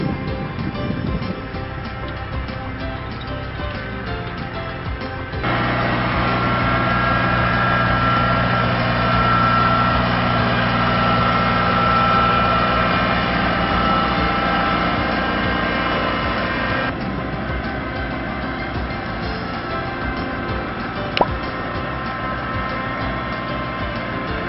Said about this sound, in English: we go over fields with a tractor like this or similar